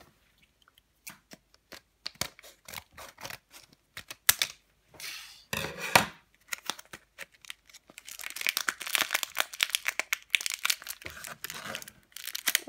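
A plastic blister pack of Panini Ekstraklasa 15/16 sticker cards is torn open at close range, with crackling plastic, tearing and crinkling in irregular bursts that grow denser toward the end.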